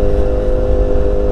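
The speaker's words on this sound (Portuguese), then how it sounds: "Olha, a moto tá rodando uniforme" A BMW S1000XR motorcycle engine idles steadily up close, a low even rumble with a constant hum and no voices.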